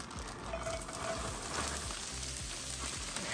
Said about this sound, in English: I'm gonna go ahead and dump in my bag of coleslaw.